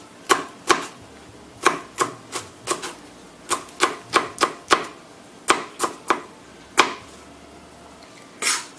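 Knife chopping vegetables for pico de gallo on a cutting board, a sharp close knock about every half second, sometimes in quick pairs, with short pauses between.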